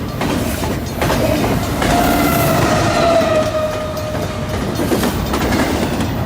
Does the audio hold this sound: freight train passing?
yes